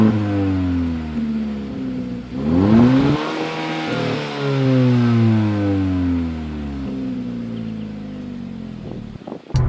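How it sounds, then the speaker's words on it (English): A 2022 Hyundai Elantra N Line with a DCT accelerates hard, its engine note and exhaust rising in pitch through the gears with short dips at each shift, loud and close throughout. "at least you have a decent engine note coming into the cabin, as well as the decent sounding exhaust"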